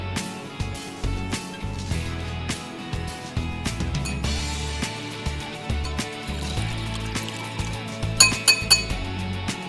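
Spoon clinking against a bowl while shrimp are mixed with cornstarch for a broccoli stir-fry, a steady run of light clinks and taps with a sharper burst of glassy knocks near the end, no talk.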